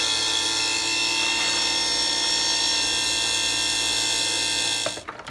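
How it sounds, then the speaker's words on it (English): Electric motor of a Fill-Rite fuel transfer pump under restoration whirring steadily with a high mechanical whine, close and constant before cutting off near the end. "the motor sounds really good"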